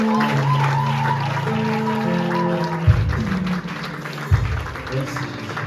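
A church congregation applauds and cheers in praise during a French-language worship service, a steady wash of clapping blended with sustained music and voices before it tapers off.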